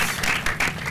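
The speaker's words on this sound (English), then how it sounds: "Guys, please, a round of applause for our panel." Brief burst of audience applause for a panel at a film industry talk, dense clapping with a few swelling pulses, moderately loud, under a second long.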